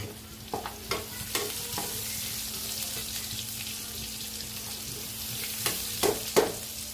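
Onions sizzling in a pan beside browning galunggong fish cooked in coconut milk, a steady frying hiss with a few sharp stirring scrapes and clicks near and at the end.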